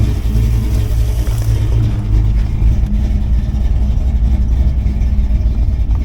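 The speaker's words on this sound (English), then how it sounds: "we're going to go ahead and start the car up" A Blueprint 383 stroker V8 in a 1980 Camaro with a Sniper 2 fuel injection system cranks and catches, then settles into a loud, steady, deep idle rumble close by.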